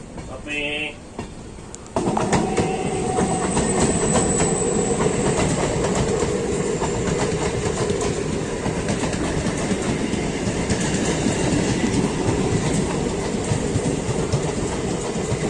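The Cheran Express train from Coimbatore to Chennai rumbles steadily along the rails with rhythmic clatter and a faint metallic squeal, loud and close throughout, after a brief quieter start.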